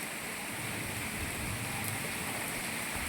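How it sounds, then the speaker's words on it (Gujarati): Steady rain pouring in Moti Gop, Gujarat, a dense continuous hiss of drops on surfaces that stays even and fairly loud throughout, with no voices over it. "મોટી ગોપમાં કાયદેસર વરસાદ પડ્યો છે"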